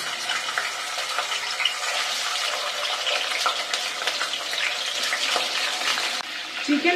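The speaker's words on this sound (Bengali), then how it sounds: "এবারে আমি চিকেনগুলোকে দিয়ে ভেজে নিব" Chicken pieces frying in hot cooking oil in a pan, a steady, loud broadband sizzle that holds evenly throughout, with a brief dip near the end.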